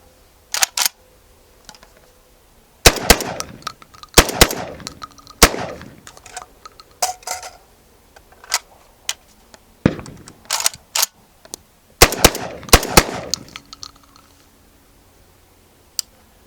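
A Citadel Boss 25 magazine-fed shotgun fires Federal 1-ounce 8-shot shells at 1290 feet per second, sending loud, sharp outdoor blasts in irregular bursts of quick successive shots separated by brief pauses and mechanical clicks.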